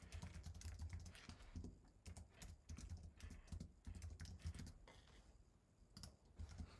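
Quiet, steady typing on a computer keyboard while entering text in Adobe Photoshop, with rapid irregular key clicks in bursts and brief pauses, close and alone.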